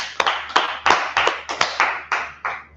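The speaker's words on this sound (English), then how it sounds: "go ahead and clap it up." A group claps hands in a steady, roughly regular rhythm, about nine sharp claps in under three seconds, close and fairly loud with no talk.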